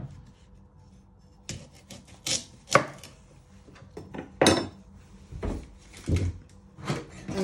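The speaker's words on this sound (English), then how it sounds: "Next step, we're going to prep the parsnips. You first chop your ends off." Knife chopping the ends off parsnips on a board, a string of sharp, uneven cuts, some louder than others, with faint kitchen clatter in between and no talk.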